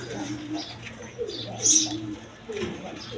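Pigeons offered for sale, males and a female, coo softly in a few low, throaty phrases over steady background noise, with faint chirps nearby.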